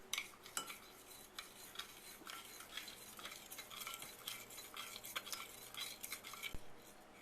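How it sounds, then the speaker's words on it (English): A plastic spoon stirring copper plating solution in a container, faint repeated light scrapes and soft clinks with a quiet background hiss throughout. "I'm going to stir that up, actually, with my plastic spoon here"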